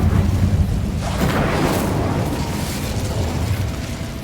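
An Incendio fire spell cast in the video game Hogwarts Legacy: a loud, dense whooshing burst of flame that erupts at once and roars steadily for several seconds before easing slightly.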